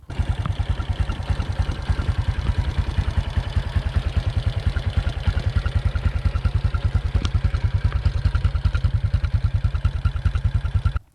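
A Honda Wave 125S, a used motorcycle several decades old, runs steadily with a fast even thumping idle and faint mechanical clatter, close and loud throughout.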